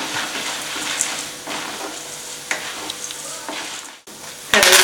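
Mustard seeds and urad dal frying in about two ladles of hot oil while being stirred, a steady close crackling sizzle with small pops, ending in a louder burst of hissing.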